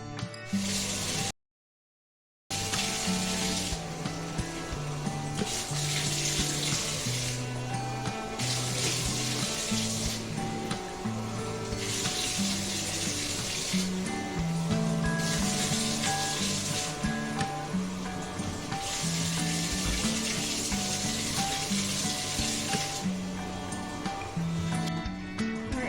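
Water runs steadily into a bathtub while rinsing it after cleaning, a continuous splashing rush with brief pulses, broken once by a short silence early on.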